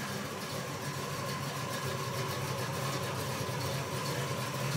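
A 1975 Chevrolet Caprice convertible with a small-block Chevy 406 and a Quick Fuel 580 carburetor idles steadily, a continuous close, rumbling engine drone with no break.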